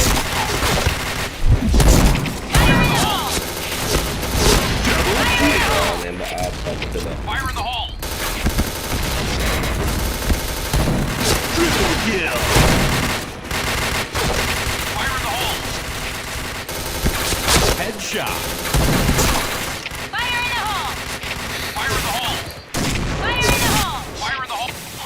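Point Blank game firefight: dense, continuous bursts of automatic gunfire with booming grenade blasts, loud and busy throughout, with players shouting over the fighting.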